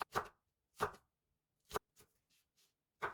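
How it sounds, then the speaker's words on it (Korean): A knife mincing green onion on a cutting board, raw radish salad in preparation: sparse, close, distinct chops, several sharp strikes spaced unevenly with short pauses, no talking. "파 또한 이맘때면 당도가 아주 좋거든요. 하도한 8g 정도 이렇게 잘게 다져줍니다"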